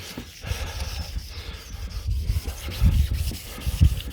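Hand sanding of plastic car trim with a sanding block on a Ford Focus ST, rhythmic rough scrubbing strokes repeating close up, growing slightly louder toward the end.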